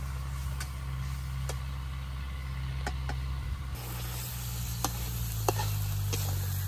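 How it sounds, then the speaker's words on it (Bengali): River fish being sautéed and reduced in oil in a pan, giving a steady close sizzle with occasional sharp crackles and pops, over a low background hum. "মাছটা খুব ভালোভাবে কষে নিচ্ছে"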